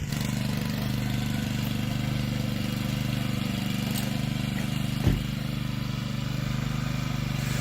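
A rented tiller churns the soil of a front yard during a home renovation, its engine running as a steady, close mid-pitched drone throughout with one brief knock partway through and no talking.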